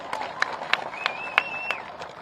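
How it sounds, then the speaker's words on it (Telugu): Crowd claps sparsely at a political speech event, with a handful of distinct, evenly spaced claps and a thin whistle-like tone partway through. "అందరు గట్టిగా చప్పట్లు కొట్టాలి."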